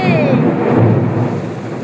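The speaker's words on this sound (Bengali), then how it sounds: "বিদ্যুৎ চমকাচ্ছে" A thunderstorm rolls overhead, with a loud deep rumble of thunder that swells and slowly fades over steady rain hiss, close and powerful.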